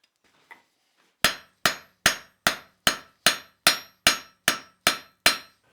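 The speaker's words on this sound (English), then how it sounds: "fairly accurate hammer blows with the edge of the hammer lining up exactly with the edge of the anvil" Eleven evenly spaced metallic hammer strikes ring out on an anvil while forging a campfire cooking fork, each sharp and bright with a short ringing decay, after a faint tap.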